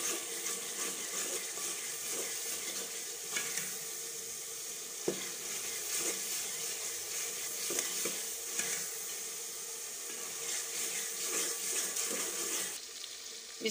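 Food fries and is stirred in a pan for a pumpkin curry, a steady soft sizzle broken by occasional clinks and scrapes of the spoon, fairly quiet and close, no talking.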